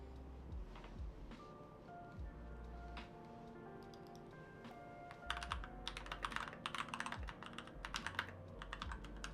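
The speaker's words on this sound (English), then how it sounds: "Mechanical keyboard." Quick bursts of clicky keystrokes on a mechanical keyboard, faint and close, with scattered taps first and then denser typing runs.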